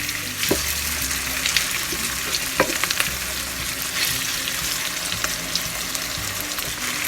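Chopped tomatoes drop into onions already frying in a pan for ginisang palaka with ampalaya, a sautéed frog and bitter melon dish, giving a steady loud sizzle with scraping stirring clatters and a few sharp knocks.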